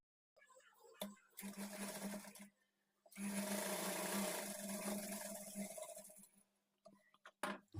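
A sewing machine stitches back darts on a blouse, running in two sustained bursts with a steady whirring hum and short pauses between, close to the microphone.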